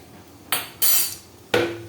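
A metal cooking pot for biryani clanks down three times in quick succession, each a sharp, bright, close metallic knock that rings briefly before fading, with no one speaking.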